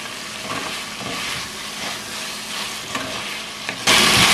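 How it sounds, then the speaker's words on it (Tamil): Halved boiled eggs frying in hot oil for a Jaffna-style sardine and egg curry, a steady crackling sizzle with faint stirring scrapes, growing suddenly louder and hissier near the end. "இந்த முட்டை வந்து எண்ணெயில லைட்லியா பொறிஞ்சோம்னா நல்லா டேஸ்டா இருக்கும் இந்த குழம்புக்கு."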